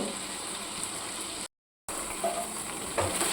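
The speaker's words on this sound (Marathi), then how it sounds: "आपली डाळ इथे परतून घेत आहोत" Chana dal frying in oil in a pan, a steady close hiss of sizzling with faint stirring scrapes, interrupted by a short silent gap midway.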